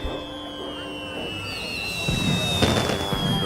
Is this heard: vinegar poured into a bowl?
no